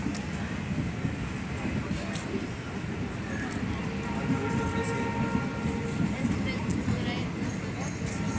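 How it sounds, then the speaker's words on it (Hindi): A train pulls out of a station on a hazy morning, its steady low rumble and rolling wheel noise continuous and fairly close, with faint clatter over the rails throughout. "ट्रेन निकल गई"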